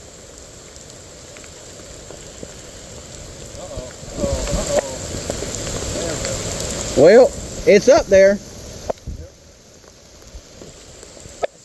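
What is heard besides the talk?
rain falling during a disc golf game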